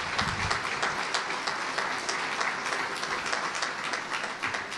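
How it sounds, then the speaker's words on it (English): An audience at a mission assembly applauds a keynote speaker, producing a continuous, dense roll of clapping that holds at a fairly even level from start to finish, somewhat distant. "let's give her a round of applause for that and all the work that she does."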